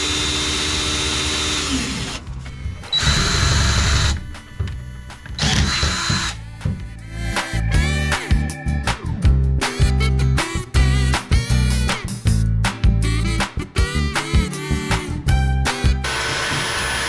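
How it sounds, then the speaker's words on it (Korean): A power drill bores holes into a van floor during a seat install, running in several loud bursts of whining motor noise with short pauses and revving between them, close up with no talk. "여기에 구멍을 뚫고 코너 쪽에 구멍을 뚫어서 위치를 잡아보도록 하겠습니다."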